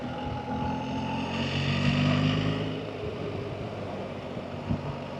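A BMW R 1300 GSA automatic motorcycle on the move gives a steady low engine drone mixed with wind rush, swelling briefly in the middle, with no talk.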